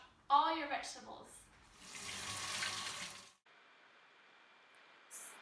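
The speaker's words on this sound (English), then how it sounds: "Make sure to wash all your vegetables." Vegetables are washed under a running kitchen tap for garden salsa: a steady broadband gush of water lasts a couple of seconds, with voices talking briefly before it and a fainter trickle continuing afterward.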